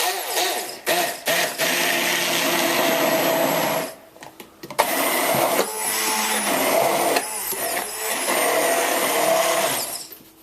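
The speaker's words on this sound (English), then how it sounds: "pour everything into whatever you're going to mix or puree it in, and then puree" A blender purees sweet vegetables for baby food, whirring steadily and loud, dropping out briefly mid-run before starting up again and continuing to the end.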